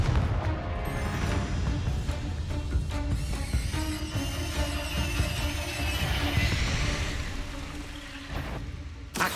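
Confringo blasting spells explode in Hogwarts Legacy as a dense, continuous barrage of loud booms and crashing blasts, with no pause or speech.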